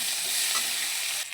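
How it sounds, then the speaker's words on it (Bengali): Chopped onions fry in hot mustard oil with a pinch of nigella seeds in a kadai, giving a loud, steady, bright sizzle that runs unbroken and cuts off briefly near the end. "পেঁয়াজ দিচ্ছি, পেঁয়াজটা একটু ভেজে নেব।"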